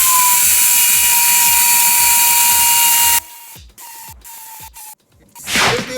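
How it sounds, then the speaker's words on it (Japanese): A power grinder whines at high pitch while grinding burrs off a wheel rim being prepared for tire mounting, loud and continuous for about three seconds, then cut into short intermittent bursts. "そこをちょっと削っていきますね。"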